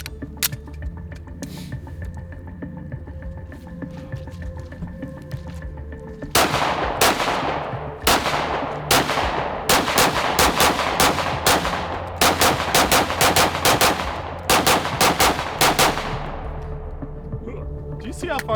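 Rapid shots from a 5.7 pistol with a red-dot optic, a quick string of sharp, loud cracks in bursts with short gaps, preceded by a few seconds of quieter ambience and faint voices.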